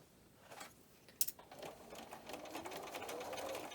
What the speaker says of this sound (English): So there are my first 2 blocks sewn together, and I will press the seam to one side.